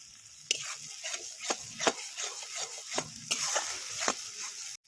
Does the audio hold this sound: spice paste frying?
yes